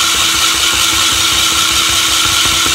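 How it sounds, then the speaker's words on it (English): A kitchen blender chopping vegetables for a veggie frittata, running loud and steady with a continuous high whirring motor whine and a low rhythmic chopping pulse. "Wouldn't do this normally with a normal blender, but I'm able to do it here without having to worry too much"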